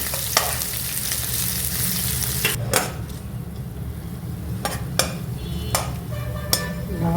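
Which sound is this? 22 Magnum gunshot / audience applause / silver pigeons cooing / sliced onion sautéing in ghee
sliced onion sautéing in ghee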